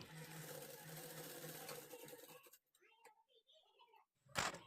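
A sewing machine runs steadily for a couple of seconds, stitching a folded blouse piece, then stops as a soft voice speaks.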